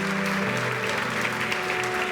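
A church congregation gives sustained applause to Jesus, a thick, even wash of clapping over a steady held musical drone, with no talking.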